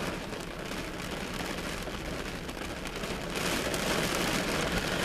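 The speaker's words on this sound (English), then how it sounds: "Man, it's raining so hard." Heavy rain pours down in a dense, steady roar that swells slightly louder toward the end, with no voices.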